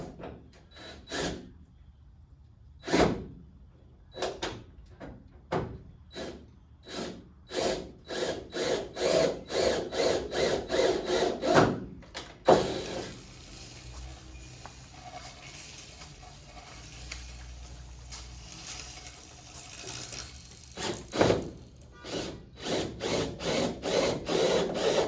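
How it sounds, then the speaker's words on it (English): A power drill drilling holes in a Honda Civic hood for hood pins whirs in a series of short, sharp bursts, then runs for a long stretch of steady grinding before more quick bursts follow, close and loud. "Nothing like drilling holes in your hood."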